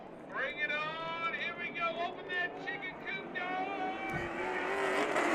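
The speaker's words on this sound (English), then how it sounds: "Good restart for Peterson" Race cars in the SPEARS CARS Tour West at Havasu 95 Speedway roar into acceleration on a restart, their engine notes climbing and overlapping in rising whines while a commentator talks excitedly over them.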